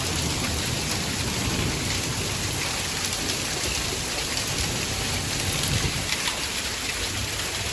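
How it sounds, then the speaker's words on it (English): Heavy rain pours down steadily in a storm over Highland County, Ohio, a dense, loud, unbroken roar of water with no let-up across the whole stretch. "It's raining so hard"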